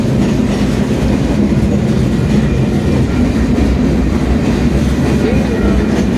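A freight train rolls steadily past, loud and close, with continuous rumble and rhythmic clickety-clack of wheels over rail joints throughout.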